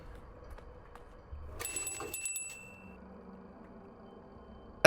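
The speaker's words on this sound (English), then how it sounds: "And then I ring the bell at night." A bell rung at a skull altar at night in the video game Pathologic 3, a single bright metallic ring with a shimmering, ringing tail that fades within about a second over a quiet ambient background, ending with a sharp click.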